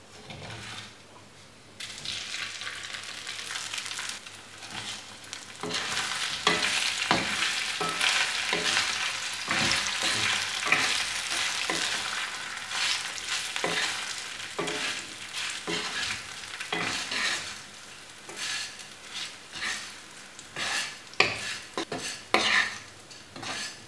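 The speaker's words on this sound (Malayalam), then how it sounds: "ഇനി ഇഡ്ഡലി ചേർത്ത് നന്നായിട്ടൊന്ന് മിക്സ് ചെയ്തെടുക്കാം." Idli pieces are stirred into masala in a pan, with a steady sizzle under repeated scraping and clinking of a spoon against the pan, close and fairly busy, with occasional louder knocks over about twenty seconds.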